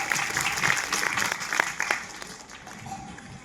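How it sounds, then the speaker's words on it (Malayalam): Audience applause at a new film's pooja ceremony: a steady wash of many hands clapping, fairly close and dense, swelling then easing slightly toward the end. "എല്ലാവരും ഒരു കയ്യടി കൊടുക്കാട്ടോ"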